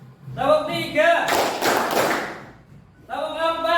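A class of students doing a concentration clap game claps three times in a quick, slightly ragged burst, the group claps loud and close, with a teacher talking before and after.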